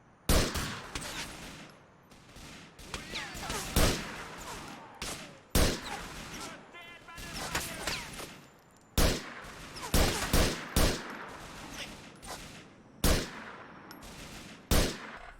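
Gunfire from Grand Theft Auto IV: a string of sharp, loud single gunshots spaced irregularly over about fifteen seconds, some in quick pairs, over faint ambient game noise.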